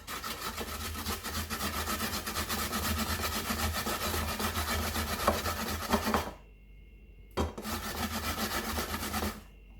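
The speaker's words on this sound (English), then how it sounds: "grate your onion." An onion rubbed against a grater gives a steady rhythmic rasping scrape, close and continuous, with a short pause and a brief stop before the scraping resumes, no talking.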